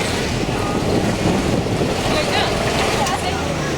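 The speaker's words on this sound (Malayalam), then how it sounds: "ഇനി ഈ ബോട്ടിൽ പ്രധാന ബോട്ടിലേക്ക് മടങ്ങുകയാണ്." A boat moves across the sea near Phuket with a steady wash of water and engine, buffeted by wind rumbling on the microphone throughout.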